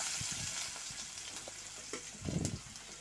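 Onions hit hot oil in a pan and fry with a loud, close, steady sizzle, with a few soft bumps of stirring near the end.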